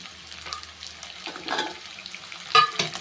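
Onion, tomato and tamarind sautéing in a pan for coriander thuvayal, soft sizzling with a few irregular stirring scrapes and clinks, fairly quiet and close, with no talking.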